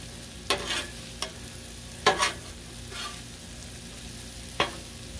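Pierogis, kielbasa and cabbage sizzling on a Blackstone griddle, a low steady fry punctuated by several sharp spatula scrapes and clacks as the food is stirred, close and fairly quiet, no talking.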